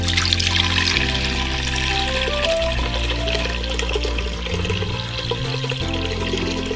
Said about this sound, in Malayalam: മൺകലത്തിലേക്ക് നമ്മൾ എടുത്തു വച്ചേക്കുന്ന തേങ്ങാപ്പാൽ ഒഴിച്ചു കൊടുക്കാം